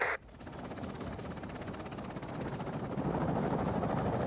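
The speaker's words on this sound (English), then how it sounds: "Chinook's getting home, so that's a good thing." A Chinook helicopter in the war game Afghanistan '11 gives a steady, rumbling rotor drone that builds slightly louder over a few seconds, heard alone.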